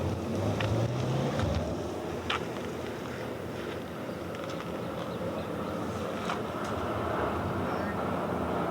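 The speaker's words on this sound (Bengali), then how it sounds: "ট্রেন চলে যাচ্ছে। তো এখান থেকে ট্রেনের ভিউ দেখা যাচ্ছে, চলে গেল ট্রেনটা।" A train passes near Bakreshwar Dam in Birbhum. Its steady, broad rumble fills the whole stretch, with wind noise and a few faint sharp clicks over it. No one speaks.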